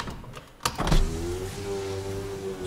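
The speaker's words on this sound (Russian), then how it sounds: "Открою я окна, чтобы в машине было светлей." Inside a Lada Priora, a short click comes first, then a power window motor starts and whirs steadily as the glass lowers, close and clear, with no talking.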